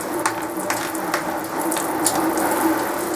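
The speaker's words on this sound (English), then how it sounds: "So I'm going to rinse everything else now." Hamster cage parts being rinsed under a running tap: a steady broadband rush of water with intermittent splashes and plastic knocks as pieces are turned under the stream, close and fairly loud.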